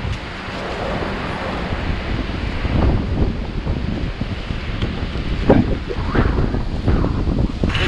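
Strong wind roars and buffets the microphone continuously around a shower tent being set up outdoors, with rustling and flapping gusts throughout and no speech.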